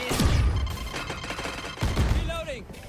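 Shotgun blasts in the video game Valorant, two heavy booming shots about a second and a half apart, close and loud, with voices talking over and around them.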